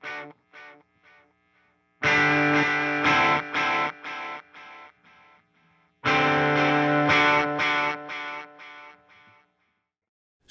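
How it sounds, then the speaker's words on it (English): An electric guitar played through a Fender Tone Master Pro with mono tape echo delay, distorted chords and notes repeating in decaying echoes, loud and close, with pauses between phrases. "here's the mono tape echo"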